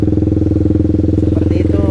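A manual clutch motorcycle engine idles with a rapid, even, close putter. Someone talks over it throughout.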